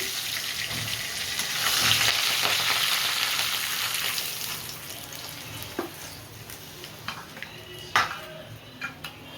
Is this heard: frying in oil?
yes